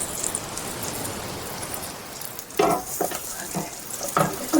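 Baby pancake batter frying in a pan gives a steady soft sizzle. Near the end come a few sharper scrapes and knocks of a spatula against the pan.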